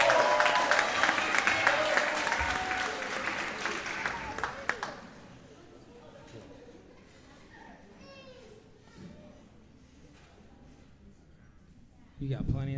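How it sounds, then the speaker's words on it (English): Applause from a middle school band concert audience fills the first few seconds, then fades into quiet hall murmur with children's voices and light chatter before a brief burst of sound at the end. "Give them a round of applause."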